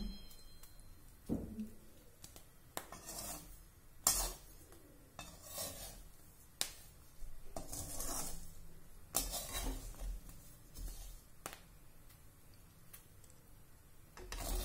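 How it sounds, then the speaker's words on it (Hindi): Wheat grains roasting in a pan, faint scattered ticks and soft clatters of grains popping and being stirred against metal, quiet and irregular. "गेहूं हमारे भुन रहे हैं, इसमें से भुनने की आवाज आ रही है।"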